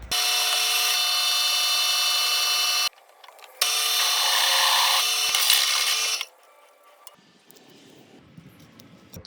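A power drill bores holes in a piece of angle iron in a motorcycle fabrication shop, two loud sustained whining runs separated by a brief pause, then quieter handling noises.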